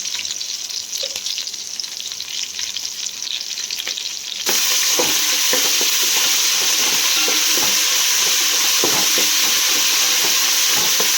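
Ginger-garlic paste is added to a pan of frying mint for a Telangana Bonalu bagara rice and bursts into a loud, steady hiss. The sizzle jumps in level halfway through and is broken by scraping stirs of a spoon.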